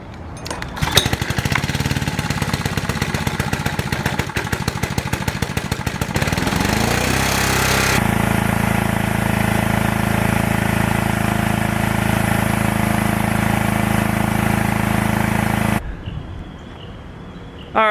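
Pressure washer engine running after a pump replacement: a loud, steady small-engine drone with a rattling, pulsing stretch early on, then a smooth sustained hum that cuts off near the end.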